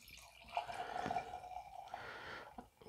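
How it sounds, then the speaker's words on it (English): Avery Rumpkin, a 2016 barrel-aged beer from Avery Brewing, poured into a glass, a steady gurgling liquid stream with bubbly splashing that builds and then trails off, with no talk. "So let's give this a pour if we can."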